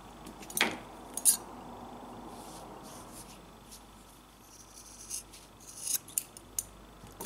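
Scissors snip through a yarn tassel with a few quiet, crisp cuts scattered over several seconds, set against faint rustling and low room noise.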